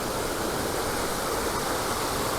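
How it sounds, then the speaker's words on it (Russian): The Uchan-Su waterfall in Crimea pours down over rocks in a dense, steady roar of rushing water, loud and close, unbroken and without voices. "Вот так вода стремится вниз."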